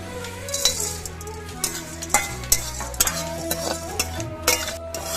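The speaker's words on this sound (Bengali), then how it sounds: "বিরিয়ানি তৈরি করার জন্য গোটা বিরিয়ানির মশলা আনা হয়েছে, এগুলো আমি একটু শুকনো খোলায় ভেজে নিচ্ছি" Whole biryani spices dry-roasting in a pan, with repeated sharp clinks and scrapes of a spoon against the metal in an uneven rhythm over a soft rattle of seeds, and no voices.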